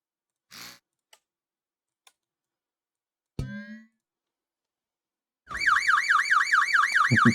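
A few scattered clicks and a clunk, then a loud warbling electronic fire alarm in the video game Stormworks starts up and keeps wailing in rapid repeating sweeps.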